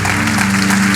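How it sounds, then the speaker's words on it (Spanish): Applause from a church congregation for the Lord during a sermon: a brief, loud burst of crowd clapping over a steady low hum. "Dale un aplauso al Señor."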